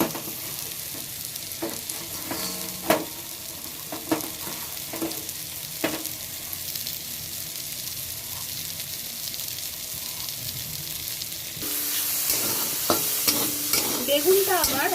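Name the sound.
brinjal frying and being stirred in a pan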